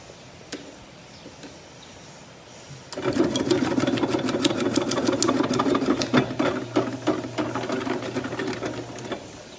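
A fast fruit slicing machine with its thickness dial set to about 3 starts after a quiet pause, then runs loud and steady with a dense mechanical whir and rapid repeated clicking of the blades cutting fruit.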